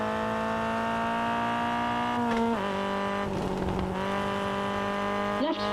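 An Alpine A110 rally car in the WRC Generations video game holds a loud, steady high engine drone, with pitch dips as it shifts and brakes, plus a brief skid or gravel rasp near the end.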